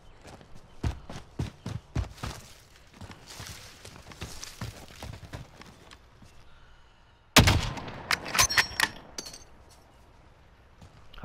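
Gunfire in the video game Call of Duty: Modern Warfare, with a scattered series of sharp shots and footsteps, then one loud close blast followed by a quick burst of rapid cracks, fading back to quieter movement.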